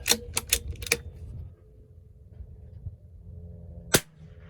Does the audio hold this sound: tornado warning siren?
no